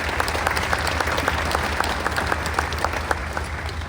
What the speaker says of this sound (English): So let's give Gene and Sheila a round of applause